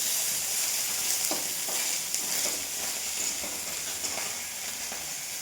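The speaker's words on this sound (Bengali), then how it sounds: "পার্শে মাছ করছি সর্ষে বাটা দিয়ে" Parshe fish frying in a pan with mustard paste gives a steady, bright sizzle with soft crackles and a few stirring scrapes, moderately quiet and continuous, with no voices.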